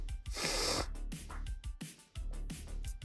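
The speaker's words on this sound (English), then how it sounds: "Sorry about the sniffles, guys." Repeated nose sniffing and snorting up close, several short sharp inhales spaced unevenly across a few seconds.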